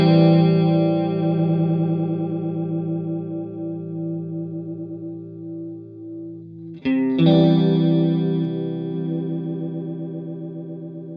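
Guitar run through a modulation effect on a TC Electronic Plethora X5 pedalboard, sustained chorus-like swirling chords that ring and fade, then a fresh strum about two-thirds through that rings out alone.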